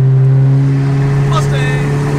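A loud, close turbocharged wagon engine holds steady on a two-step rev limiter for a couple of seconds, droning with a sustained tone and a faint crackle partway through.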